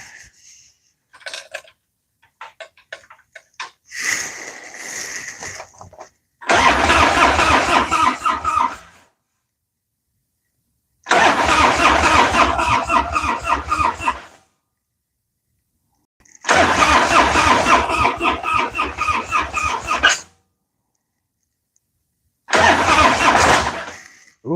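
A Harley-Davidson Dyna motorcycle engine with a weak battery cranks in four loud, sputtering bursts of a few seconds each, separated by silence, after a few faint clicks and rattles.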